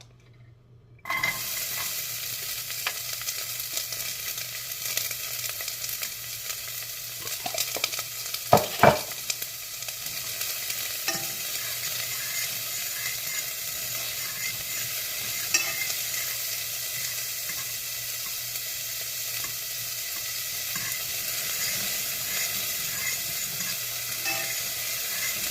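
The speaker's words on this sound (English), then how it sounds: "So I got my olive oil warmed up here on this burner. So I'm going to go in with my yellow onions." Yellow onions frying in warm olive oil on a stovetop burner for a chickpea and sweet pea soup: a steady, close sizzle that begins abruptly and continues throughout, with occasional stirring clatter.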